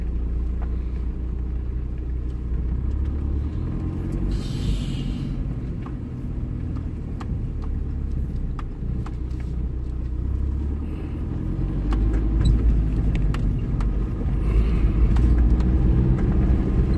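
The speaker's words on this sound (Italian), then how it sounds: "Questa macchina ha lasciato un bel po' di polvere." Car driving along a rough, dusty unpaved road near Saline Joniche in Italy: a steady, loud low engine and tyre rumble throughout, swelling slightly toward the end, with no talking.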